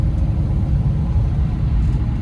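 Wind and road rumble inside a 1968 Dodge Charger cruising at about 30 miles an hour, a loud, continuous low roar filling the cabin without pause.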